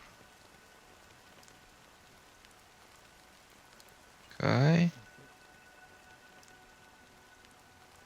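A fine drizzle falls in the video game Honkai: Star Rail as a soft, continuous patter of rain. A person briefly speaks once partway through.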